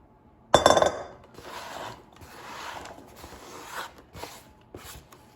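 Sliced sweet potato chips tumble into a bowl with a sharp clattering drop, followed by softer scattered rustles and small clinks as the pieces settle.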